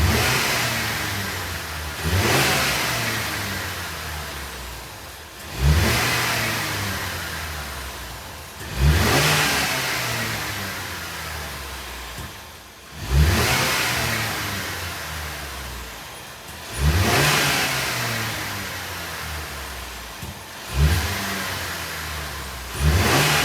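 Ford Maverick engine with a newly replaced air filter, revved six times in a regular cycle, each sharp surge climbing loudly and then sinking back toward idle, heard close and alone.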